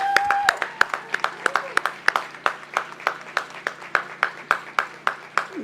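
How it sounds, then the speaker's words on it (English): Graduation commencement audience applauding the new graduates at a university ceremony, with steady rhythmic clapping from a crowd that continues throughout. "Let's give these graduates another round of applause."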